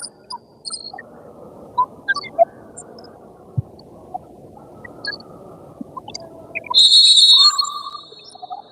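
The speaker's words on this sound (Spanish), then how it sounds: "¿Se escuchó el silbato?" A referee's whistle at a first-division football match between Almafuerte and Atlanta sounds as one long, loud, steady blast near the end, following a stretch of faint crowd murmur and scattered distant noises.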